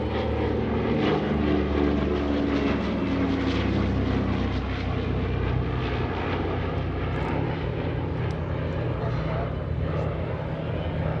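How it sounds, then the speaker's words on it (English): A C-47 transport aircraft makes a photo pass at a World War II airshow, its propeller engines droning loudly and steadily as it goes by, with faint crowd voices underneath. "C-47 coming by in a photo pass."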